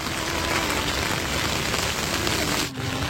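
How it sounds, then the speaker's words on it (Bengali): A heavy downpour pours down outside a Durga Puja pandal at ITI More in Kalyani, a dense, loud, unbroken roar of rain with a brief dip near the end. "মুষলধারে বৃষ্টি হচ্ছে কিন্তু"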